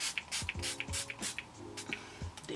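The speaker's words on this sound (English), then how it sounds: "You can use an oil control fixing spray. Just spritz it on your face." An oil-control makeup setting spray is spritzed onto a face in repeated short bursts, several quick hissing puffs in a row, near and fairly quiet.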